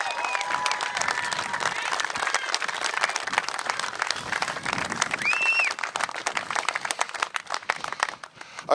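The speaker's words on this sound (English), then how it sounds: "I'd like everyone just to give a round of applause to all the teams and the players here" A stadium crowd at a men's rugby all-star championship applauds the teams and players, steady dense clapping with some cheering and whistles throughout, loud and sustained before thinning at the end.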